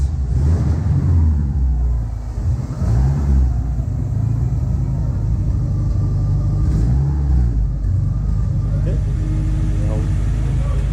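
A Subaru engine revs after a junkyard transmission install, with loud rumbling rises and falls in pitch close by, while a person talks over the engine noise.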